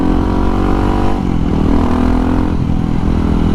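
A CCM single-cylinder motorcycle engine runs loud and close, a rough throbbing drone with a slight rise and fall in revs and no voices.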